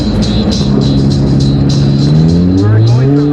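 A Honda Element with a straight-pipe exhaust revs hard, its loud, raw engine drone climbing steadily in pitch and staying close and continuous throughout.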